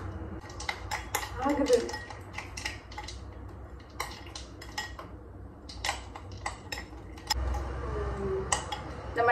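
Melted ghee stirred with ice cubes to make butter, giving close, rapid clinks and taps of a spoon against a bowl in an uneven rhythm, with a brief word spoken over it.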